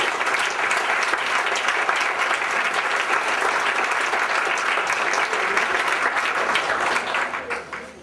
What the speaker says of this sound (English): All this applause is for you and the great job you're doing.